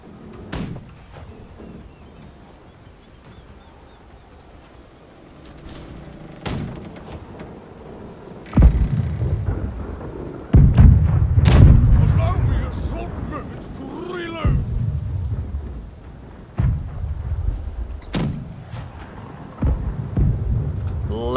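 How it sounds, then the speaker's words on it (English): Ship cannons firing in the naval battle game Blackwake, a series of heavy booming blasts spread irregularly across the span, some near and loud with rumbling tails, under voices talking. "Yeah, the gun needs to fire now."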